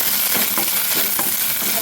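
Curry leaves frying in coconut oil in a kadai, with moisture giving a loud, dense, continuous sizzle close by.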